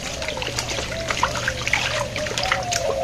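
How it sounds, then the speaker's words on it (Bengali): Fish being rinsed in water with salt, with steady trickling and light splashing close by and soft voices faintly in the background. "এমনি ধোয়া হয়েছে লবণ দিয়ে ধুয়ে নিলাম আরেকবার"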